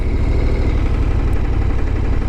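A KTM 1290 Super Adventure S motorcycle engine idles, a steady low throbbing rumble heard up close and continuous, with no talk.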